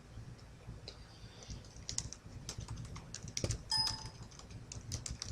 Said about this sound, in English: We type in SONC.